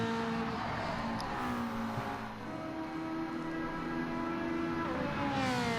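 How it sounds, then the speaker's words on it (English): A race car engine in the GTTCC racing series screams at high revs, its pitch rising and shifting through gear changes as the car accelerates down the straight, loud and continuous. "Listen to the sound of that engine go"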